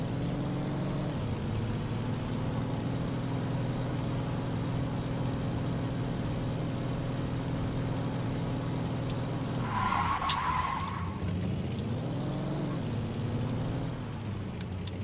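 A classic American car in Saints Row 2 drives with a steady, loud engine drone, then briefly skids with a sharp tire squeal midway before the engine settles back in.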